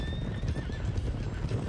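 A stallion in Red Dead Redemption 2 gives a close, fairly quiet whinny over the rapid clip-clop of hooves, with a brief rising pitch early on and steady hoofbeats running throughout.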